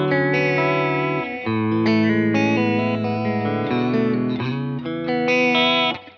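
Electric guitar played through a vibrato pedal, sustained chords with a steady wobbling pitch, loud and continuous for about six seconds with no talk.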